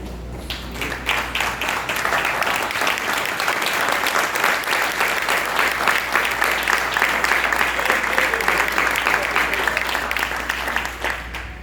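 A church congregation applauding together, loud sustained clapping that builds quickly and holds evenly for over ten seconds before easing slightly at the end.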